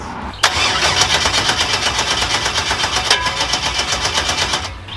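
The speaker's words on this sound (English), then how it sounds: "It just probably kicked the starter. Not a big deal. But it still won't fire up." Starter cranking on a rusty Chevrolet Nova that fails to fire: a sharp click, then a steady, rhythmic whirring churn for several seconds before it stops, loud and close.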